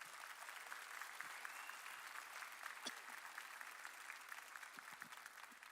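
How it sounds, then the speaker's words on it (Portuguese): Faint, steady applause from a church congregation for visitors, continuous clapping at a distance with a few sharper claps standing out. "Pedir um aplauso bem grande para eles."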